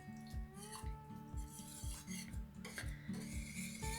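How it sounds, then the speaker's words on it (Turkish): Béchamel sauce is stirred continuously in a pot, making soft rhythmic scrapes and light clinks of a utensil against the metal, with a faint sizzle beneath; quiet and close. "şimdi topaklaşmasın diye sürekli bu şekilde karıştırıyorum"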